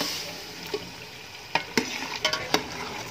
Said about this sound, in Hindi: चिकन हमारा भुनना स्टार्ट हो गया है